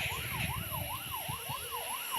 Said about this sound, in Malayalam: ഈ പണ്ടാര സൈറൺ ആദ്യം ഓഫ് ചെയ്യാം.